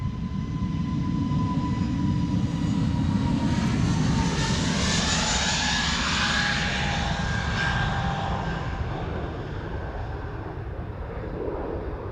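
An easyJet Airbus A320neo jet takes off from Amsterdam Schiphol Airport, a loud steady engine roar with a sweeping whine that swells and slowly fades as it passes close by, with no talk.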